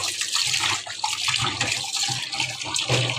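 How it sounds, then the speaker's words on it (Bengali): Water runs steadily from a tap while fish is rinsed and washed by hand, a continuous close splashing hiss with small irregular surges and no talking. "আমি কীভাবে মাছটা ধুয়ে নিচ্ছি সেটা দেখাচ্ছি"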